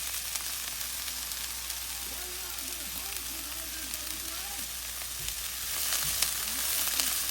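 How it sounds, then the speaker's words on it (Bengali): Onion frying in ghee in a pan, a loud, steady, hissing sizzle that fills the scene, with a faint voice speaking beneath it and a couple of soft knocks near the end. "তো কাজে আপনারা ঘি দিয়ে এই পেঁয়াজটাকে এইভাবে ভেজে নেবেন"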